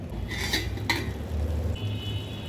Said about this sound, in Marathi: आता आपण झाकण उघडून बघूयात